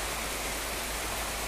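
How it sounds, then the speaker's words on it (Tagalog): Very heavy rain pours down on a home vegetable garden, a dense, steady roar of water with no breaks, loud and close throughout, with no voices. "Ang lakas ng ulan dito banda ngayon."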